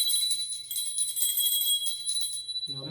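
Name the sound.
puja hand bell ringing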